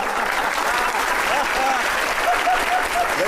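Sustained audience applause at a poetry recitation, dense and steady for the whole stretch, with faint voices and calls running underneath the clapping.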